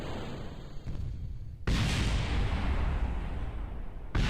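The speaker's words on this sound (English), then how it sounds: "as soon as I fire up the thrusters, everything just begins to explode" Spacecraft thrusters in a space-building video game ignite abruptly into a loud, roaring, explosive rush that sustains for a few seconds, followed by another sharp burst at the end.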